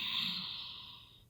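One long, soft, deep exhale during yoga practice, a close breathy rush that fades away over about a second.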